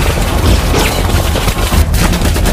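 Dense, loud gunfire in a tense film scene, a rapid fusillade of shots and booms sustained for a few seconds with no talk over it.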